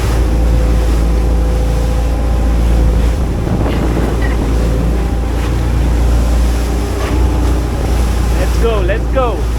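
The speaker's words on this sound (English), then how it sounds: "I don't know if you can see the motion of the boat." A boat cuts through choppy water into a bay off El Nido, Palawan, with a constant loud rumble of engine, wind buffeting the microphone and waves slapping the hull, and a voice faintly heard beneath the roar.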